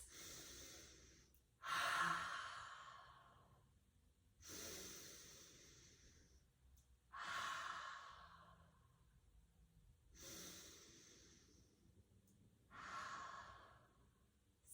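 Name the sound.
deep full breaths during yoga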